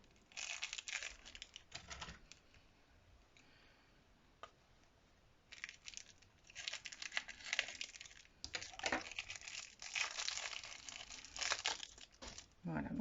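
A Christmas gift package is opened and unwrapped. Close paper crinkling and tearing come in irregular bursts, separated by quieter pauses, and grow busier toward the end.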